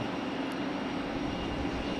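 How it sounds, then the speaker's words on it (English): A Delta Airbus A319 taxis toward the runway at Raleigh-Durham airport, producing a steady, moderately distant engine rumble and whine that holds even throughout. "We got another Delta headed to the end of the runway here. Looks like an A319."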